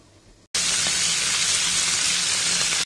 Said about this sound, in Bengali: এখন হালকা করে একটু ভেজে নিব, তারপরে আমি এটাকে ভুনা করে নিব।